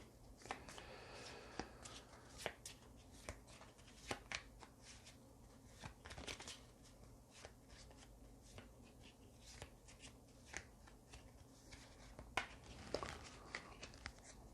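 A deck of playing cards is shuffled over and over in a loose, careless way, with repeated riffles and soft flicks close by, quiet and steady.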